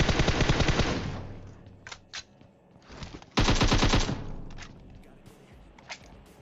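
Automatic gunfire in PUBG Mobile, two loud rapid bursts separated by a lull with scattered single shots, followed by fainter distant shots.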